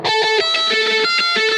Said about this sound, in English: With it off, this is what the delays and the phase sounds like.